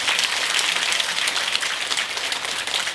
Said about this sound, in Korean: 박수부터 합니다